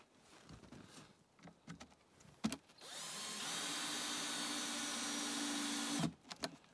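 A power drill drives a screw into the back of a wooden trap box, a steady whirring run of about three seconds after a few brief knocks and handling clicks, stopping abruptly.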